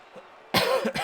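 A single sharp, close cough bursts out after a moment of quiet background hum.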